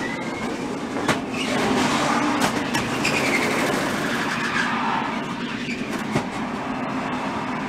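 NASCAR stock car engine from an onboard camera during Speedweeks racing, a steady loud roar with rattling road noise and a few sharp knocks, no talk.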